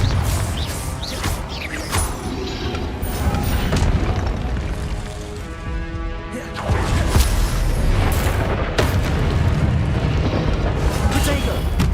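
Explosive spell blasts in the Hogwarts Legacy video game. Booming impacts and crashing bursts repeat over a dense, loud battle mix, with a voice shouting throughout.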